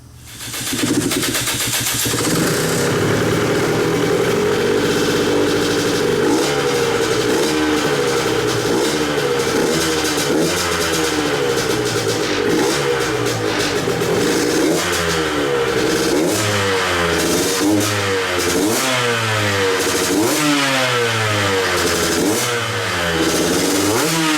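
A KTM 125XC two-stroke dirt bike with a freshly rebuilt top end and RK Tech head runs loudly and close for the whole stretch, its engine whining as it is revved up and down repeatedly in rising and falling sweeps.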